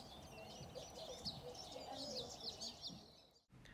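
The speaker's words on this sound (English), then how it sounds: "There's a painted bunting." Painted bunting calling from a bird blind in Garner State Park, Texas: repeated high chirps and warbling notes over steady outdoor background noise, fairly faint and continuous, with a brief dropout near the end.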